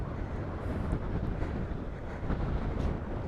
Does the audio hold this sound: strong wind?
yes